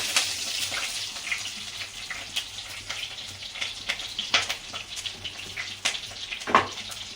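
Ground curry leaves frying in hot oil for a fish gravy give a steady, close sizzle with scattered crackles and small pops, with no talking.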